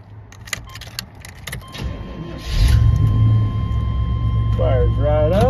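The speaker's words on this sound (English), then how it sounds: "Let me fire it up really quick." A 1992 Chevy Blazer engine cranks and fires, its idle rising into a loud, steady rumble. Clicks and rattles come before it, and brief voice-like sounds overlap near the end.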